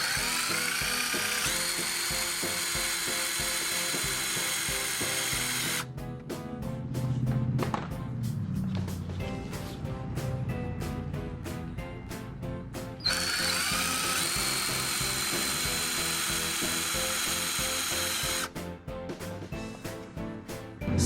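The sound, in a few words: drilling holes with a drill bit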